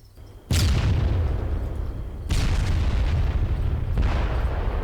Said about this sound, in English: I'm like getting grenaded to death.